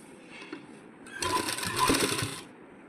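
A sewing machine sews a second line of stitching over an existing seam on a sleeve with lining and lace, a short close burst of rapid mechanical whirring that rises, holds about a second and a half, then stops.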